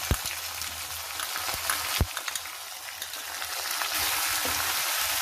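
Fenugreek seeds and chopped garlic fry in hot oil for an aloe vera sabzi, giving a steady, close sizzle with occasional sharp pops and stirring, growing denser toward the end.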